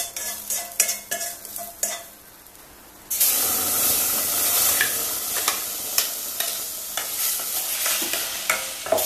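Green chilli paste for tava-fried pink salmon is scraped and stirred in a pan, first as sharp rhythmic clinks, then a sudden loud sizzle that continues under repeated spatula strokes; no voices.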